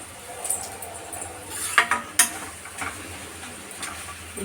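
A spoon stirs a bean dish in a pan on the stove, giving scattered scrapes and a couple of sharp metallic clinks over a low, steady background hum.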